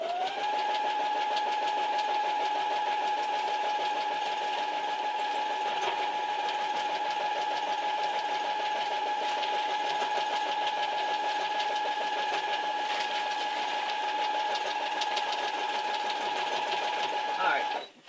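A sewing machine stitches a newspaper quilt with a steady, continuous motor whine and fast needle chatter at close range for about eighteen seconds, stopping abruptly at the end.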